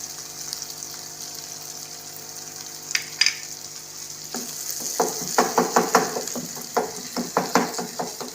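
Mash dal and egg fry in a pan, a soft sizzle running underneath while a spoon stirs and scrapes in a string of quick, uneven clatters through the second half.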